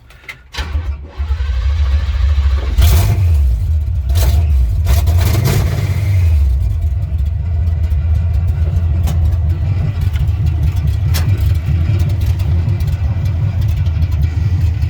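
A 1970 Chevrolet C10 truck engine with fresh gas poured into the carburetor catches and starts, then runs close and loud, revving a few times before it settles into a steady rough idle.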